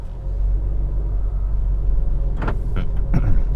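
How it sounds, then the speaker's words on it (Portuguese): Interior of a Honda City or Chevrolet Onix Midnight rolling slowly, a low steady road rumble filling a quiet cabin, with a few brief clicks and thumps near the end. "Vamos rodar um pouquinho só para vocês sentirem que o carro faz pouco ruído e ele desliza fácil"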